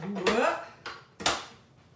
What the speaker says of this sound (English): I'm just going to give this a scrape, scrape, scrape